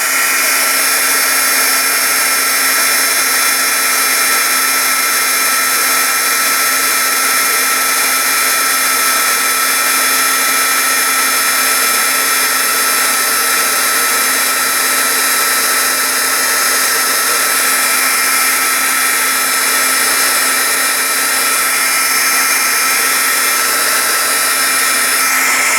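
A heat tool melts embossing powder on stamped hearts, its blower whirring with a constant high whine and a steady hum, loud and unbroken for the whole stretch.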